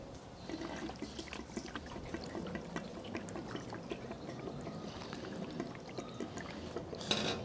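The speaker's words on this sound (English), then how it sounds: "gonna put a little bit of fuel in here and let's pray we get no leaks" Petrol pours into a Suzuki SV650S fuel tank with a faint, continuous trickling and gurgling of liquid, heard close and unaccompanied by talk.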